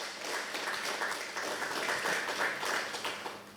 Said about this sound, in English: ought to give yourself a round of applause for that.